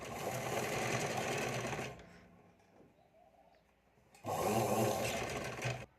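A sewing machine runs fast, stitching finishing seams on a size 28 princess-cut front panel, a steady close mechanical whir that stops for about two seconds, then starts again, with faint birds cooing behind.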